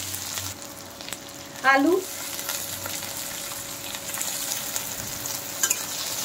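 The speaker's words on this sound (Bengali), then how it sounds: "তেল গরম হয়ে গেছে, এখন দিয়ে দেব গাজর, বিন, ফুলকপি," Carrots, beans, cauliflower and potato sizzle in hot oil in a home kitchen pan, a steady crackling hiss running throughout, with a short spoken word near the start.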